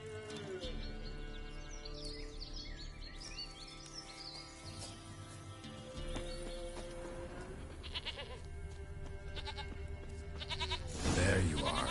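A goat bleats repeatedly in The Witcher 3 game world, the cries standing out over a steady hum of ambient game music, with a louder, brighter burst near the end.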